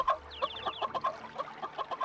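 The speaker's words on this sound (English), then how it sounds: "I can run into a chicken." A chicken in a video game clucks in a quick run of short, choppy notes, fairly quiet and close, with no talking over it.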